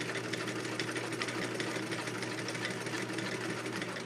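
A vintage Emdeko JA21 sewing machine runs a zigzag stitch with a dense, continuous mechanical whir and rapid needle clatter, steady and close throughout with no pauses.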